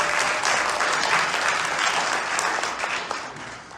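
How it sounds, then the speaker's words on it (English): A room full of people at a town hall conversation with the mayor breaks into steady, dense applause that holds strong across the whole stretch, then eases slightly toward the end, with no voices over it. "I think that deserves a round of applause"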